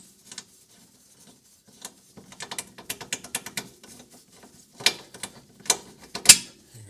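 On a 2020–2023 Subaru Outback, a shock absorber bolt is worked free with a screwdriver, heard as close sparse metallic clicks and ratcheting scrapes coming in quick bursts with quiet gaps between them.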